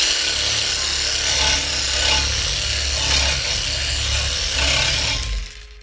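An AL-KO cordless reciprocating saw cutting, a loud, continuous rasping buzz with a rhythmic rise and fall of the strokes, close up, stopping abruptly at the end.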